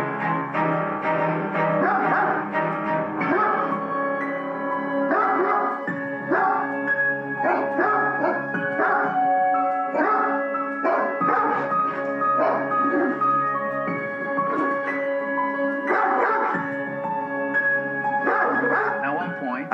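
A dog behind a gate barks, yips and whimpers in repeated loud bursts, the sounds near and insistent, with a voice talking over parts of it.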